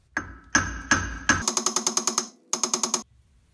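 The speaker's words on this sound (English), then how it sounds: "give the hub some taps" A hammer taps on the wheel hub of a Toyota 4x4 solid front axle: four heavy ringing blows, then two quick bursts of rapid, lighter metallic taps, close and loud with no talk.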